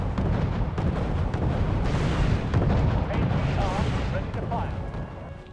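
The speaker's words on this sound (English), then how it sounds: "Alright, we have self-propelled artillery." Self-propelled artillery fires in Wargame: European Escalation, with rumbling booms and bursts layered over continuous battle noise while voices talk intermittently.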